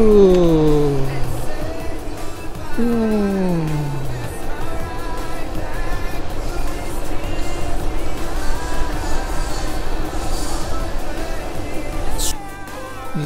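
A car's engine rumbles and sweeps in pitch as the vehicle approaches from behind on a coastal road in Amakusa, heard over wind and e-bike riding noise, with a voice talking over it.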